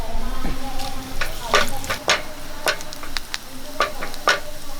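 Cut dried red chilies frying in oil in a pan for kanthari rasam, a steady close sizzle broken by sharp scraping stirs and light clicks of a spoon against the pan.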